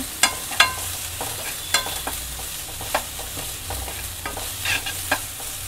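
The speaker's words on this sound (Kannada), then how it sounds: "ಒಂದು ಸ್ಪೂನು ಶುಂಠಿ ಬೆಳ್ಳುಳ್ಳಿ ಪೇಸ್ಟ್ ಸೇರಿಸ್ತಾ ಇದ್ದೀನಿ. ಅದನ್ನು ಆಯಿಲಲ್ಲಿ ಚೆನ್ನಾಗಿ ಫ್ರೈ ಮಾಡ್ಕೋಬೇಕು." Ginger garlic paste fried in oil, a soft steady sizzle punctuated by repeated scraping and tapping strokes of a spoon stirring in the pan, no talking.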